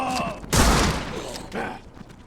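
Shotgun blasts in the horror game The Sinking City, a heavy boom followed by a fainter second shot, heard against background game ambience.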